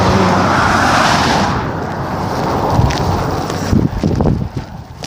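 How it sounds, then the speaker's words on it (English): Cars rush past on a road beside a church, heard as a loud, close roar buffeted by heavy wind on the microphone, easing off before another vehicle sweeps by. "By the church, there are cars."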